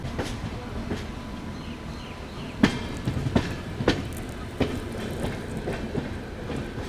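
A train from Puri to Kolkata rumbles along the tracks, with rhythmic clicks and clacks of wheels over rail joints and a steady low roar.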